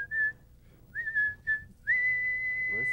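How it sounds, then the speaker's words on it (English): A few short whistled notes, then one long steady whistled tone held to the end, clear and fairly close. "Whistling?"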